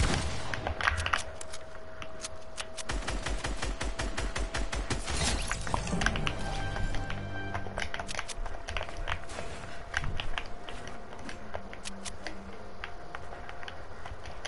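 Gunfire at targets in a video game: rapid bursts of sharp shots and clicks, dense around the middle, with some game tones underneath and no talking.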